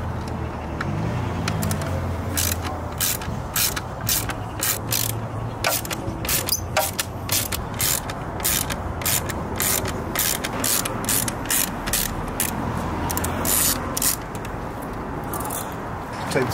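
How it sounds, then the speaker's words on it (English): A screwdriver loosens Torx screws on the air filter housing of a W212 Mercedes E63 AMG, giving a long series of sharp ratcheting clicks in irregular bursts, close and clear over a faint engine-bay background. "we've got the torque screws here, and then one at the back here that we're going to loosen off"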